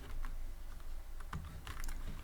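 Keys clatter on a computer keyboard while Python multiprocessing code is entered, a steady run of close, quick clicks with a slightly heavier burst of strokes near the end.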